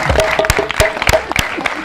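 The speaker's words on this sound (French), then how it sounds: "applaudissez." Pupils at a solar panel inauguration ceremony in Senegal clap in loose, uneven bursts, with sharp separate hand claps standing out close by over a faint hum.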